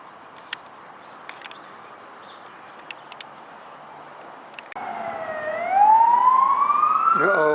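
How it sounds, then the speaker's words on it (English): Fire truck siren wailing as it passes through a small-town street in Bisbee, starting after a few seconds of quiet street ambience with faint clicks and growing loud and close, rising in pitch. "Uh-oh, sounds like a fire truck."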